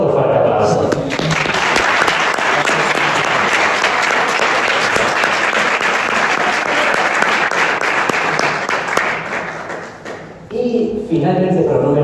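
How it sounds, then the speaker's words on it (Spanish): Sustained audience applause at a book presentation fills roughly ten seconds with dense, steady clapping, then fades out as a voice begins speaking near the end. "pero bueno, antes otro fuerte aplauso."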